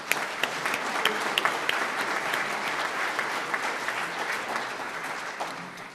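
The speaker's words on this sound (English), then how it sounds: "let's give everybody a round of applause" Applause at a Rotary club meeting, a crowd clapping steadily in a room with crisp individual hand claps popping above the dense patter, holding an even level throughout and fading slightly at the close.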